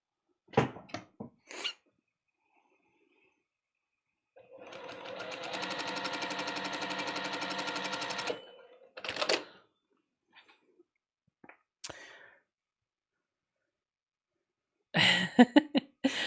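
A sewing machine stitches a quilt block in one steady run of rapid mechanical whirring lasting about four seconds, preceded and followed by scattered soft clicks and handling taps in an otherwise quiet room.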